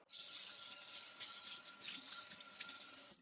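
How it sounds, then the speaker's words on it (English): Water sprays in a steady, close hiss to rinse a surface being scrubbed with an electric spin scrubber, dipping briefly midway and then running on, quiet overall and with no talk. "I'll rinse that off"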